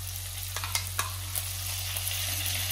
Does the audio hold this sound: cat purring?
no